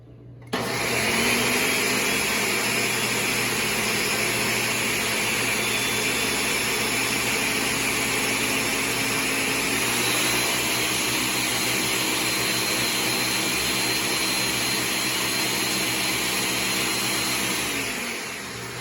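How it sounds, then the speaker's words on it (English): A Ninja blender runs steadily for about eighteen seconds with water and a few drops of Dawn Platinum dish soap inside, a loud constant motor whir with a slight shift in pitch midway and no talking. "the blender cleans itself."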